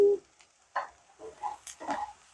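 Onions frying in a pan while browning for breakfast home fries, a soft intermittent sizzle with occasional stirring and scraping noises, fairly quiet and heard on its own.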